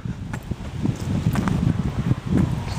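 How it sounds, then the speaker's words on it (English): Gusty wind blows outdoors during a power walk, a steady close rumble buffeting the microphone with rustling bursts, no voice over it. "it goes really windy"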